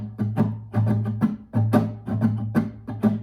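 Rhythmic strum pattern on a guitar with the strings muted under the fingers and struck with a pick, giving a run of percussive, choked chucks in a steady repeating groove, close and clear with no talking.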